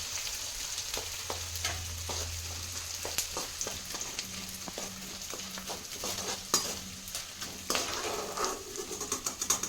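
Adadiya mixture of urad dal flour sizzles steadily in ghee as it is fried until reddish, with a spatula scraping and tapping the pan in irregular strokes close by; no voices.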